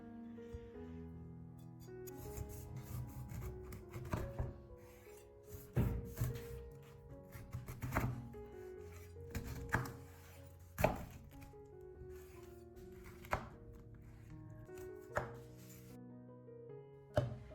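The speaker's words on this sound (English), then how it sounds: "Stand it upright and cut it into quarters. Follow the natural ridges to slice neat," A knife cuts through a pineapple on a board, landing in a series of distinct thunking chops at an uneven pace, some sharper than others, quiet and close with no talking.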